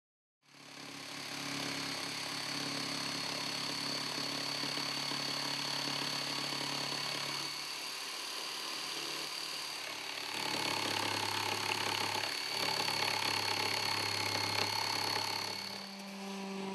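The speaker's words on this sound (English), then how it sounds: "use a jigsaw or coping saw to cut the curved radius on the right and left side rail." A jigsaw cuts a curved radius in a wooden side rail for a Murphy bed. It makes a loud, continuous buzzing motor whine that runs steadily for about fifteen seconds, shifting pitch partway through, with no talk.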